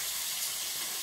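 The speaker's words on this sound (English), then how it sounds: "the water's boiling" Water at a rolling boil in a cooking pot gives off a steady, close broadband hiss and bubbling rush, constant and even for the whole short moment, with no talking.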